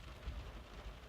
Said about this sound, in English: So you can probably hear, it is raining.